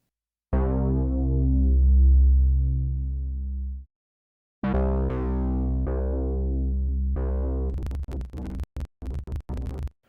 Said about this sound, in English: The next sound we're gonna use is gonna be a Oberheim bass sound.